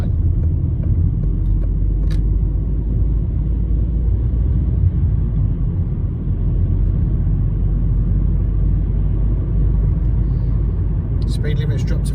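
A car on a road runs with a steady low engine and tyre rumble from inside the cabin as it slows, someone talking over the drone throughout.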